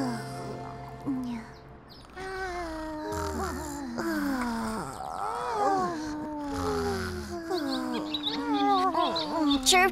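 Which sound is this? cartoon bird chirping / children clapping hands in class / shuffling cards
cartoon bird chirping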